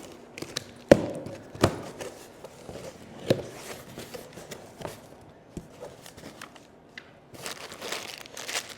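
A bag of gate hardware and screws is torn open and rummaged through, with crinkling plastic, sharp taps and small knocks scattered up close across the whole stretch.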